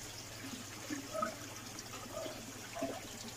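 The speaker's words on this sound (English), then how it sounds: "The water goes in here and will overflow here." Water overflows and trickles from a settlement tank in an aquaponics system, a steady liquid flow with faint gurgles and a low pump hum beneath, no voices.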